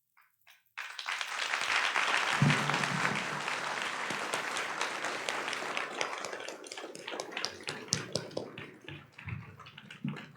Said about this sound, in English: Maybe one more round of applause.